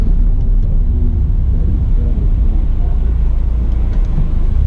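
A car launches off the line at an SCCA autocross in the STX class, a loud, steady low engine and road rumble heard from inside the car throughout.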